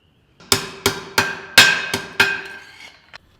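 Seven sharp ringing hammer blows on steel at an anvil, close and loud, spaced about a third of a second apart, each leaving a brief metallic ring before the last lighter tap.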